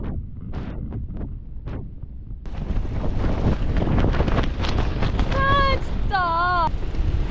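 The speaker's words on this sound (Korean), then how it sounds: "바람 너무 많이 불어서." Strong gusting wind batters the microphone at a campsite near Mount Fuji, a steady roaring rush that grows louder partway through, with a person speaking over it and a brief whistling tone near the end.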